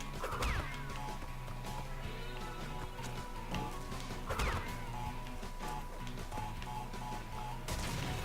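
Crates smash and burst in Crash Bandicoot N-Sane Trilogy, sharp crashes with swishy bursts recurring at intervals over constant game music.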